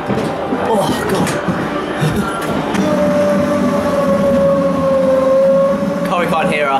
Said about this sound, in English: We're quickly gonna go on the ghost train, like inside this weird building.